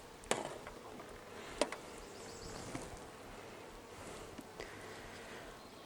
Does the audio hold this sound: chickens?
no